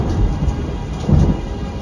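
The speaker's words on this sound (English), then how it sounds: "a great peal of thunder" A thunder sound effect rumbles low and heavy with a rain-like wash layered on top, swelling into a deeper roll near the end of a short, loud stretch, with no voices.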